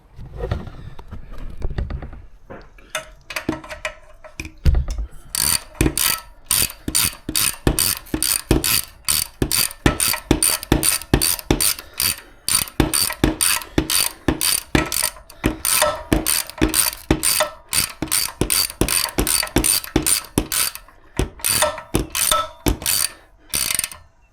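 A fastener snugged on a Coleman B200 RSV with a ratchet: a long run of quick, evenly repeated metallic clicks, loud and close, coming in bursts with short pauses.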